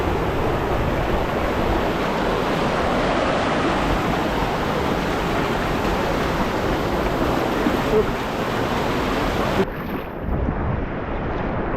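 A river in Corsica rushing along its southern bank, a steady broadband wash of flowing water with wind buffeting the microphone, continuous and close, easing slightly near the end.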